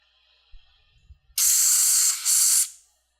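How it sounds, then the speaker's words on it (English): Brake cleaner and compressed air sprayed into a threaded hole prepared for a Time-Sert insert: a few soft knocks, then two loud, close hissing blasts, the second brief and trailing off. "Go ahead and clean it off with a little bit of brake clean and air."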